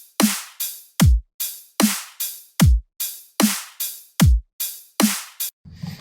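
A bland, sparse dubstep drum loop repeats alone: crisp noisy snare-like hits alternate with deep booming kicks in a steady, even pattern, with few other elements.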